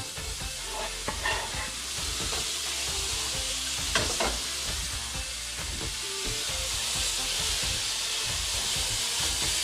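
Pork fillet cooks in a pan over low heat, giving a steady, close sizzle and hiss that runs the whole time, with a few light stirring scrapes and no talking.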